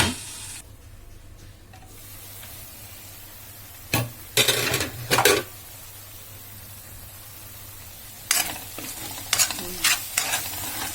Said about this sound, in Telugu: ఇప్పుడు ఇందులో టమాటా వేసేస్తున్నాను